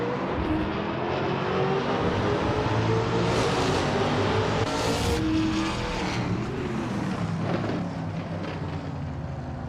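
Race car engines from a 2021 Ford Mustang in a racing game at Albert Park roar together at the start, a loud, continuous revving drone that rises and swells as the cars accelerate away.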